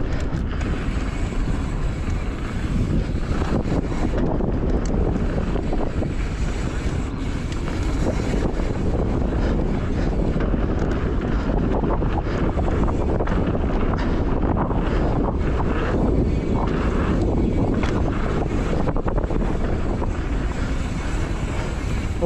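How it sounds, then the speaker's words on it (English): Strong wind at an outdoor bike park in Leamington Spa, buffeting the microphone with a loud, continuous roaring rumble that swells and gusts throughout, no talking. "Really windy."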